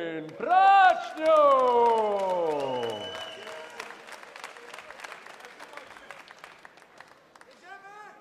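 Crowd cheers and applauds at a HIT FC MMA event as a fighter is introduced, a loud swell of clapping and shouting behind an amplified announcer's voice, then tapering off into a steady patter of applause.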